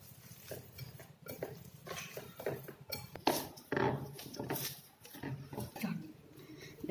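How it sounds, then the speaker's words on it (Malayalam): Appam batter mixed with egg being kneaded by hand in a vessel, soft squelching and patting in an irregular run with frequent light clinks against the bowl, close and fairly quiet, no talk. "ഇനി നന്നായിട്ട് നമ്മൾ പത്തിരി കുഴച്ചെടുക്കണ മാതിരി നന്നായിട്ട് അതിനെ കുഴച്ചെടുക്കുക"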